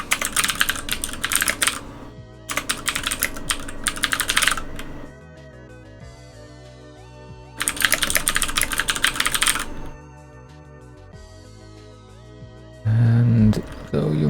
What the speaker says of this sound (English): you may hear the very loud, frantic typing